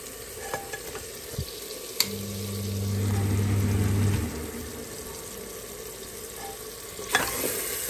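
Onion-tomato masala for a Punjabi bottle gourd curry sizzles softly in a pan, with occasional spoon taps and a steady low hum swelling mid-clip, close and fairly quiet, no voices.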